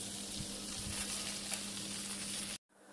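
Angel hair vermicelli browns in butter and oil, making a continuous moderate sizzle with small crackles and occasional stirring scrapes before the sound cuts off abruptly near the end.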